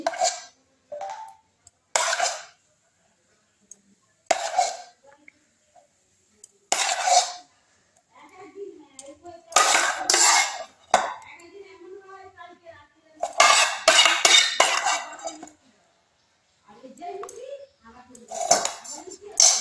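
A spoon clinks against glasses of water while making a summer roasted-mango drink, with sharp separate taps spaced through the clip and a person speaking between them.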